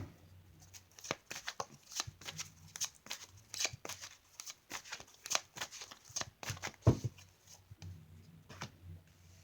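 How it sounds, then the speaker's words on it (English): Tarot cards shuffled by hand in a quiet room, a steady run of soft, close riffling flicks with brief pauses and one louder slap near the end, with no talking. "So I'm gonna pull some cards."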